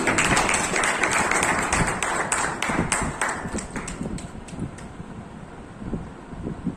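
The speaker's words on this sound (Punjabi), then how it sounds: "ਇੱਕ ਜ਼ੋਰਦਾਰ ਕਲੈਪਿੰਗ ਇਹਨਾਂ ਵਾਸਤੇ" Loud, dense applause from an audience at a block-level Teachers' Day function, steady at first and thinning out slightly toward the end.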